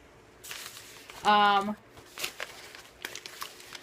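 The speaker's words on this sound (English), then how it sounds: "This is an envelope from Andrew." A paper mail envelope handled and torn open indoors, with crinkling and rustling, one brief tonal squeak in the middle, and light scraping handling noises around it.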